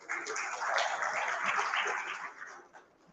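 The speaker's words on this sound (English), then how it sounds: "Please give a big round of applause for them." A conference audience at an education expo inauguration gives a round of applause, a fairly quiet, muffled wash of clapping that swells briefly and then dies away.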